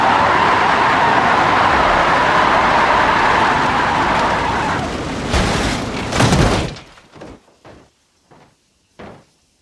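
An Audi 80 in the BeamNG Drive driving game roars loudly under hard acceleration, then a crash hits with a burst of crunching impacts, followed by a few short, fading clatters and thuds of debris.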